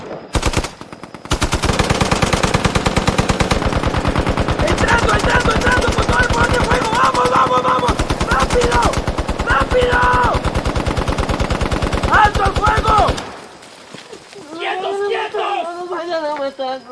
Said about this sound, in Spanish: Vamos a aterrarlos con las ametralladoras.